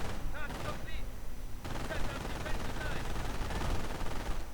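Gunfire from a World War II strategy video game crackles in quick bursts and scattered shots, steady and mid-distance, under a continuous battle din with a commentator talking over it.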